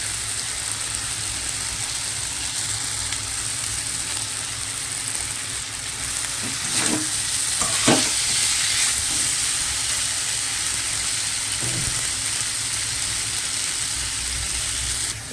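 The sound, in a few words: cabbage frying with potato and bori in a pan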